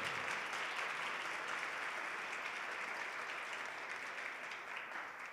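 Steady applause from an audience at a school prize ceremony for first- and second-year secondary students, a dense wash of many hands clapping continuously and evenly from start to finish with no voices.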